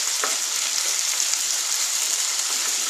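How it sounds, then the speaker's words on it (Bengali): Potatoes fry in a pan for aloo posto, a dense, even, close sizzle without pause or voices. "আর একটু ভাজতে হবে আলুটা।"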